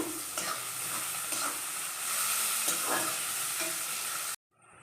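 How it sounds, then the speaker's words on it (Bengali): Onion fries in oil in a pan, a steady close sizzle with periodic scraping stirs of a spatula, cutting off abruptly near the end. "পেঁয়াজটা ভেজে নেব"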